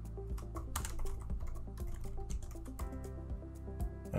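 Keys tapping on a computer keyboard while a project name is entered during setup, a quick irregular patter of close, crisp clicks running steadily throughout, with no talking.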